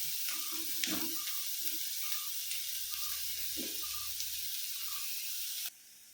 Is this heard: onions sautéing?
yes